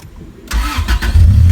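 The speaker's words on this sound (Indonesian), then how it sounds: "Kemudian pencet ini start stop engine-nya" Engine of a Honda Civic Genio, an older car fitted with passive keyless push-button start, cranks and catches, settling into a steady, close, fairly loud idle.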